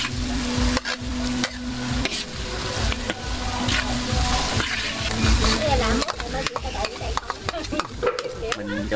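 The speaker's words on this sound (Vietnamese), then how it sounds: "Bây giờ mình đang chuẩn bị chiên cơm." Rice is fried with dried salted fish for a village wedding feast. A loud, steady sizzle runs throughout, broken by repeated scraping strokes of stirring in the pan, close up.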